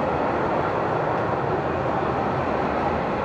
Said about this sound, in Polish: O, i nad nami jedzie teraz tramwaj.